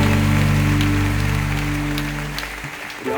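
A congregation at a Korean church prayer meeting claps together in a steady wash of applause over a sustained organ chord that cuts off near the end, leaving scattered claps.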